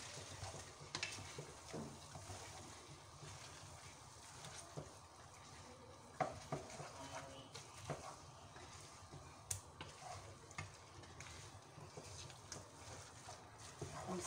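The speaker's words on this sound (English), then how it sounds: "Stirring the Mee Hoon." Mee Hoon rice noodles being stirred in a pan for briyani: a faint, steady scraping and soft sizzle that runs continuously, quiet and close.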